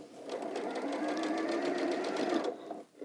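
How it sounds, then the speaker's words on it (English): A sewing machine stitching a row of patchwork quilt pieces, set to 2.4 stitch length, whirs close up with a rapid even stitching rhythm for about two and a half seconds before slowing to a stop. "we will just carefully stitch along here"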